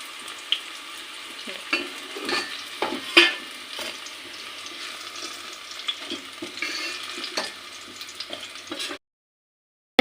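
Green chillies sautéing in hot oil in a pan for a Kerala-style chicken curry, a soft steady sizzle with occasional spoon scrapes and stirring clinks, close by, ending abruptly in silence.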